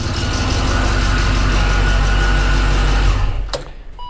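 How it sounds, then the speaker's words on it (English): A powerful supercharged BMW E39 M5 engine runs with a loud, throbbing idle inside a shed, then cuts off abruptly near the end, leaving near quiet. "it sounds like a mean engine."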